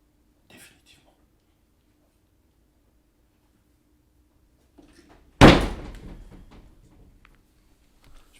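A door slams shut once, a loud nearby bang that fades over about a second, after a stretch of near silence broken only by a faint rustle.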